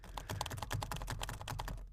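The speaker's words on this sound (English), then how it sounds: "I went really, really aggressive with the typing there" Fast, aggressive typing on a computer keyboard, a dense rapid rattle of key clicks running steadily throughout, close and fairly loud, with no talking.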